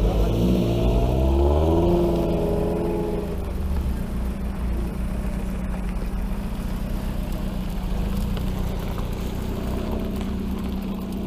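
Caterham sports car revving and pulling away, a loud rising engine note at first that settles into a steady throaty drone as the car moves off, with no talk over it.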